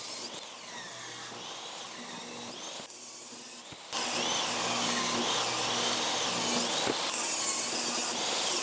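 A table saw rips small wood scraps in half against a rip fence set 3 1/4 inch from the blade. A steady motor whine runs first, then grows sharply louder and harsher midway as the blade bites into the wood, holding loud to the end.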